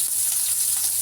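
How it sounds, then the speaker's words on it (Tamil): Chopped onions sauté in hot oil with dal, fennel and curry leaves in a pan for potato masiyal, a steady close bright sizzling hiss with no talk. "கருவேப்பிலை சேர்த்து நறுக்கி வச்சுட்டு வெங்காயத்தை சேர்த்து வெங்காயத்தை சும்மா ஃபஸ்ட்டு லேசாக 2 தடவை வணக்கிக்கலாம்"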